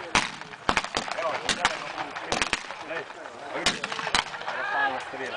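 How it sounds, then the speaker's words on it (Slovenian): Automatic gunfire from a simulated attack on the Rupnik Line fortifications cracks in sharp, uneven bursts of loud close shots while someone talks over them. "Rafalna strela."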